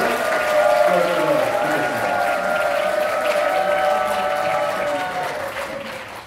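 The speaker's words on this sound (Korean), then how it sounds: "다시 한번 큰 박수로 환영해 주시기 바랍니다" Welcoming applause from an audience at a peace award ceremony marking the March 1st Movement, a steady wash of clapping under a faint voice, sustained throughout and fading slightly at the end.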